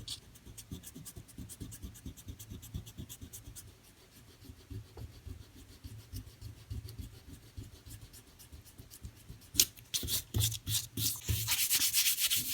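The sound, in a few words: eraser rubbing off masking fluid on watercolor paper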